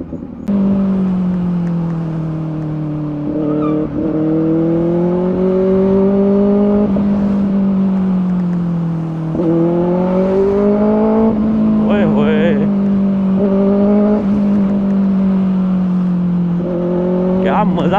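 A Benelli 600i motorcycle's four-cylinder engine hums loudly and steadily while riding, its pitch rising and falling with throttle changes, with wind noise throughout and someone speaking over it at times.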